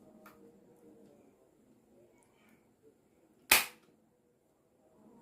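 An Orbeez toy gun with undersized gel beads firing once, a single sharp loud snap that stands out against faint background murmur and then falls to near silence.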